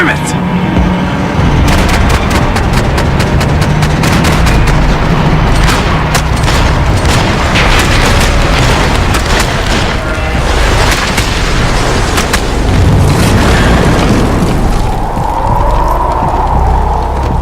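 Heavy gunfire during a fight in the game Max Payne 3, a constant loud barrage of rapid shots and booming impacts that stays dense from start to finish.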